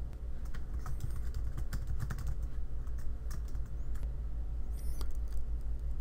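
Typing on a computer keyboard while setting up Act! Premium software, a steady patter of close keystrokes running the whole time over a low background hum, with no talking.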